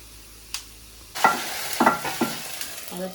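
Hot oil tempering for a dish of country chicken sizzles up close after a sharp clink, breaking into loud bursts of crackling spatter that settle into a softer fry, with no talk.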